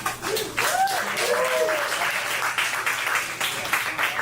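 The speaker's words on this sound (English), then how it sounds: "Keep clapping" An audience applauds loudly and steadily, a dense wash of clapping, with a voice calling out over it near the start.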